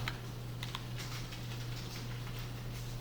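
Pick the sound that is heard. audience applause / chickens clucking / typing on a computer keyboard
typing on a computer keyboard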